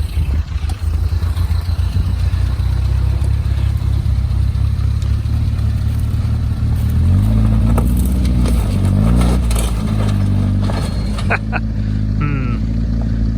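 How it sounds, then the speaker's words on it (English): Land Rover Defender engine idling and then revving as the vehicle climbs over a fallen tree on a Swedish forest trail, a loud, close, rumbling drone that rises and falls with the strain, with creaks and knocks. "So we're going to try and drive over the tree that's fallen over in the middle of the road"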